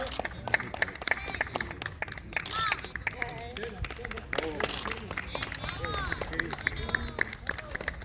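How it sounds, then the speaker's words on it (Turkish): Group applause for a volunteer at a disaster-response training session, a crowd clapping steadily throughout amid chatter and voices. "Hadi alkışlayın arkadaşımız ama."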